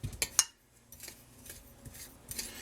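A spoon stirs coarse salt with chopped basil in a bowl, giving a few close, light clinks and scrapes at the start and then a soft, intermittent gritty rustle.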